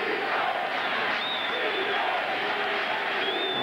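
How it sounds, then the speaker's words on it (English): Iowa State football crowd at the 2000 Insight Bowl against Pittsburgh roars continuously in the stadium, a dense, loud wall of cheering and shouting with faint whistles rising above it. "you can hear the Iowa State crowd"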